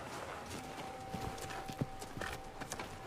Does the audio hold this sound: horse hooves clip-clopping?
yes